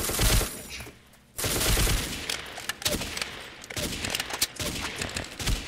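Rapid gunfire bursts from a machine gun in the blocky voxel shooter Ace of Spades, loud and dense for most of the span with a brief lull near the start, under game ambience.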